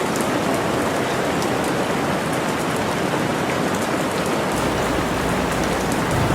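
Steady heavy rain falls on surfaces outdoors, a dense, continuous hiss with scattered droplet patter, loud and close with no voices.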